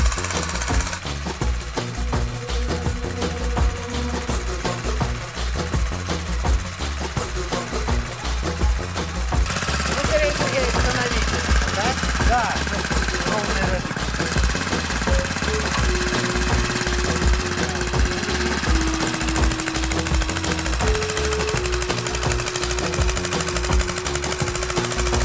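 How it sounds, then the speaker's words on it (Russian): A tractor engine works a vegetable garden plot, chugging loud and close with a steady, knocking rhythm that runs unbroken throughout, with no talking. "Катаешься или на тракторе?"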